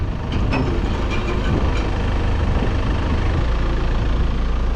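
A tractor engine pulls away nearby at a farm base where a Steketee cultivator has just arrived, its steady heavy low rumble running continuously with no talk.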